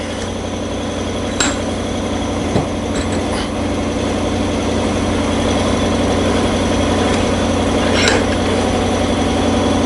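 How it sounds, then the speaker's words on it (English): Air compressor running in a machine workshop: a steady, loud, low motor drone fills the whole stretch, with a few faint clicks and taps from bench work on top and no talk. "there goes the compressor"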